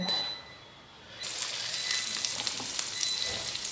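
Pepper, tomato, onions, ginger and garlic hit hot oil after a near-silent second, then a bright steady sizzle with light crackles continues close by, quieter overall, no speech.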